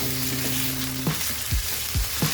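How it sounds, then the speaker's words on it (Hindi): Chicken frying hard in a karahi over a high flame, a steady close sizzle with a few soft stirring scrapes and clunks of the ladle against the pan. "तकरीबन 2 से 3 मिनट हम चिकन को अच्छे से भून लेंगे।"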